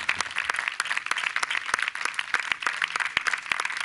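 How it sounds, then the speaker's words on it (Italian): Applause fills a sports event gathering, a dense crowd clapping steadily with sharp individual claps standing out, loud and continuous with no talking. "Grande applauso ai nostri due amici."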